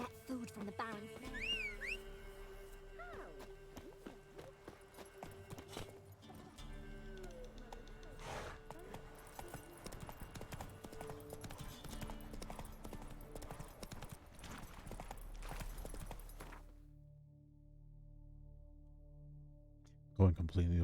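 Roach the horse gallops in The Witcher 3, a rhythmic clip-clop of hooves running steadily beneath game music and a talking player, ending with a brief louder burst after a quieter stretch.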